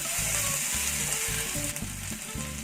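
Onion, chickpeas and green chilies fry in a pan for a soya chunks dish, a steady bright sizzle heard over a repeating, rhythmic low-pitched musical pattern, with no speech.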